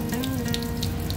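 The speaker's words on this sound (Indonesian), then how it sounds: "Setelah kita siram seperti ini, lakukan penyiraman kembali" Water pours steadily into a potted aglaonema plant, a close, continuous splashing stream with no talking.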